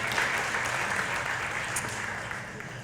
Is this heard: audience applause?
yes